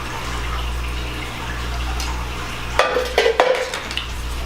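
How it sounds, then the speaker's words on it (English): Blueberries and seasonings stirred together for a homemade blueberry pie filling: a steady low hum, then a short run of soft clinks and scrapes of a utensil against the bowl near the end. "I am going to stir in the rest of these blueberries and seasonings that we have here"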